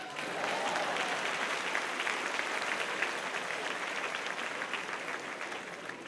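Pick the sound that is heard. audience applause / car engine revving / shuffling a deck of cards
audience applause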